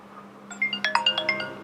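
Mobile phone ringtone: a short, bright chiming melody of quick rising and falling tones that starts partway in, plays several notes and cuts off abruptly, over a faint steady hum.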